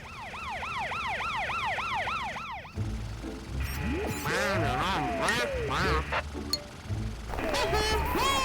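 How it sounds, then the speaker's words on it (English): Wailing siren from a children's police-car cartoon, a rising and falling tone that runs loud at first, then cuts out as music and voices take over. "Follow the sound of the siren,"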